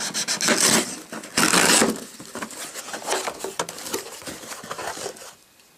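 Packaging for home theater PC cords being opened with a cutter, with two loud bursts of scraping and rubbing followed by softer crinkling and patter close to the microphone, fading out at the end.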